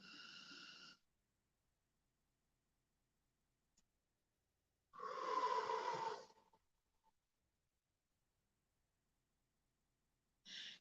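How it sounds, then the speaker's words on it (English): Slow, deep breaths during a guided wellness breathing exercise: a long airy exhale, a pause, another fuller breath, then the start of a third, close and quiet. "Steady breathing."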